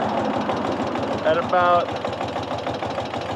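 A motorcycle engine runs in second gear as a steady mid-pitched drone beneath a man's close speech, with a brief louder swell near the middle.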